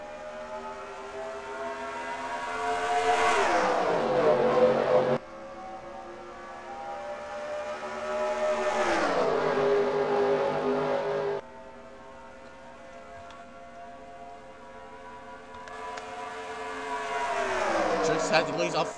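NASCAR race cars roaring past on a 1.5-mile oval in NASCAR Racing 2003 Season, repeated rising-and-falling engine pitch sweeps as the pack passes close, three distinct pass-bys with steadier drone between.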